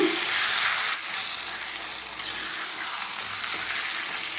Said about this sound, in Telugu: ఈ పచ్చడి మొత్తం అంతా వేసుకుని ఒకసారి అంతా కలుపుకుందాం